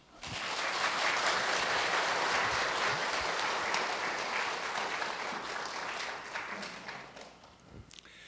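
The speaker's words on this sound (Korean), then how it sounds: "박수 쳐주시죠." Guests at a church wedding ceremony break into sustained, dense applause that starts abruptly, holds steady, then fades out toward the end.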